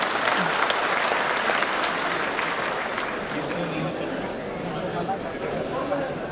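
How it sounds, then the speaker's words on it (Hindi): Loud, sustained applause from a poetry recital audience, a dense wash of clapping that holds steady throughout, with faint voices mixed in. "एक बार जोरदार तालियां बजा के थोड़ा हौसला बढ़ाएं।"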